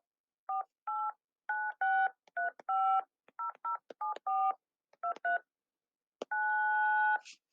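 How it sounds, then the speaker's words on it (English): Keypad tones from a phone as number keys are pressed at random, a quick irregular run of short two-pitch beeps, several in rapid pairs, ending in one longer held tone, clear and alone with no talk. "I just started pressing numbers on my phone, and those are the noises."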